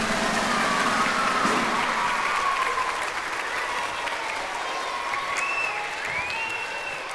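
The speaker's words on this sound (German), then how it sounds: "begrüßen wir mit einem tosenden Applaus" A school concert audience bursts into thunderous applause for the Hänsel and Gretel characters, a dense, steady roar of clapping that fills the hall and holds throughout, with a faint background hum underneath.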